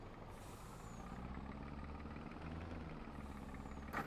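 A demo T-cab truck in Farming Simulator 22 idles with a steady, low engine rumble, close and continuous, with a brief sharp hiss of an air brake near the end.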